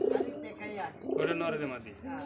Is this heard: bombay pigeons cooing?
yes